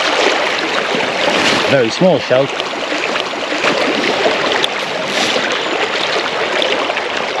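A river flows steadily with a broad rushing wash at a fishing spot, continuous and fairly close, while someone talks briefly over it.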